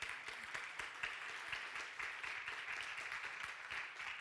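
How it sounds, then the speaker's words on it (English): Faint, steady applause from a conference audience greeting a speaker from the International Organization for Migration, a soft continuous patter of many hands with scattered sharper claps. "Shall we energize the welcome with an applause?"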